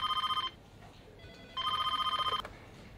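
A telephone rings in a lawyer's office in two loud bursts of rapid trilling, separated by a pause of about a second.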